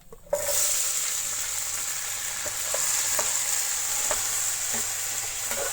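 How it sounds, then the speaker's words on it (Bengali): Spices, cardamom, tomato, onion, garlic, ginger and curry leaves frying in a pan for a jackfruit seed curry, starting with a sudden sizzle that holds steady and bright, dotted with light stirring taps, no talking. "একসাথে এটা একটু বাজিম।"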